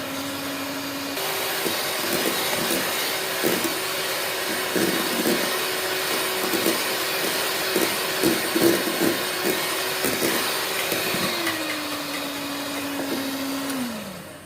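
Electric beater whipping cream to stiff peaks for vanilla pastry, a steady loud motor whine running continuously for several seconds, its pitch sliding down as it slows at the end, with no talk over it.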